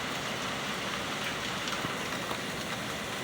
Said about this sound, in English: You can see the hail coming down here.